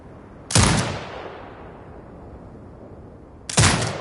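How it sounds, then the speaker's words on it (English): A remotely commanded turret in Sniper Ghost Warrior Contracts 2 fires two single heavy gunshots about three seconds apart. Each shot is loud and booming, with a long rumbling decay, and there is no talking. "Exit binocular mode and command the turret to fire."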